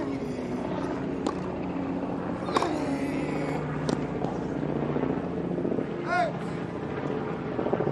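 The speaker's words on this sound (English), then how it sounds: "Private helicopter out of Red Hill." A private helicopter flying out of Red Hill near Wimbledon gives a continuous broad rotor and engine drone overhead, steady and fairly loud, with a few brief sharp bangs and a short chirp on top.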